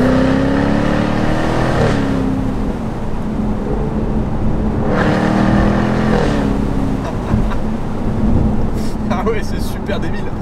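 A Jaguar F-Type R P575 convertible with a V8 roars loudly as it revs, the engine note climbing in two strong pulls over a heavy, rumbling drone.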